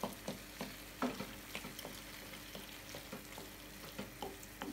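A spoon mashes a sauce with eggplant in a pan, giving soft repeated taps and scrapes over a steady faint sizzle, fairly quiet throughout.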